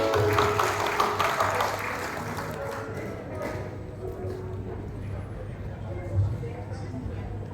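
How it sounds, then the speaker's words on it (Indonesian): Applause from an audience at a church seminar in Deli Serdang: a broad, steady wash of clapping that thins after a few seconds and lingers softly over a low hum. "mari kita berikan tepuk tangan untuk"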